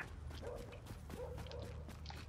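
A dog in the video game Tom Clancy's The Division gives several faint yips and barks over a low rumbling game background.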